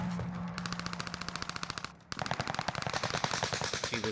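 Rapid automatic gunfire rattles in a shooter video game, two sustained bursts of fast, evenly spaced shots separated by a short pause, loud and close.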